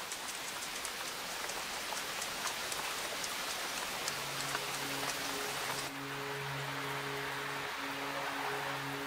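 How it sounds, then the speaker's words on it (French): Heavy rain falling in western Tasmania, a dense, steady hiss of drops throughout, with low faint tonal hums joining partway through; no voices. "Il y pleut quasiment chaque jour."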